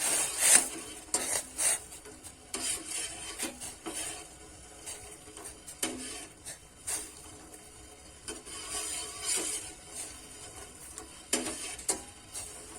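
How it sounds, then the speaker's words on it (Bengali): A ladle stirs hot jaggery syrup in a pot, giving irregular close scrapes and knocks over a soft bubbling hiss, with no voices. "এবারে কিন্তু আমি একটা হাতা দিয়ে একটু নেড়ে দেবো"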